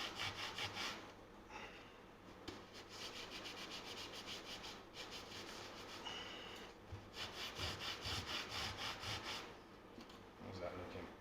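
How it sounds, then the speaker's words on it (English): Steady scrubbing and rubbing on the grimy frets of a broken ukulele during a repair, a continuous close scratchy friction with brief pauses between strokes. "I just want to make sure I get all of the grime off of those frets."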